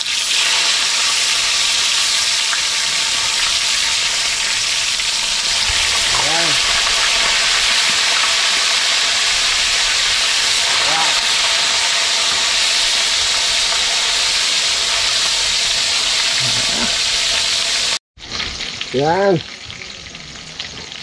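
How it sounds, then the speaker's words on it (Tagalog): Fish frying in a pan of hot oil, a steady loud sizzle and hiss running throughout, with a few short spoken words and clatter toward the end during a home cooking session for a Filipino lunch with pechay. "Prito muna tayo ng isda."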